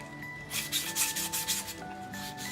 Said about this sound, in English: sanding pads that were used up just as a way to sand filler